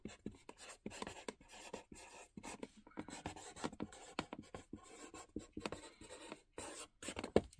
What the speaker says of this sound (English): I have nothing written on the front, so let's write on the front.